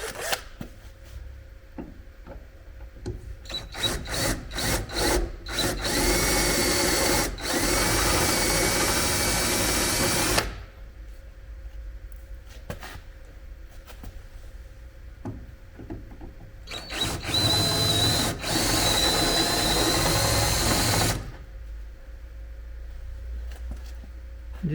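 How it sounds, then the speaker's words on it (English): A power drill cuts the heads off rivets on the door of a 1980 Chevy Silverado truck, running in two long loud bursts separated by quieter shuffling, with short stuttering starts at the beginning. "Just drill the heads off them rivets."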